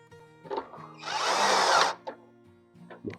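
A cordless drill drives a screw into a plastic fuse box, one sustained whirring burst of about a second, close and loud, between quieter clicks and handling noises.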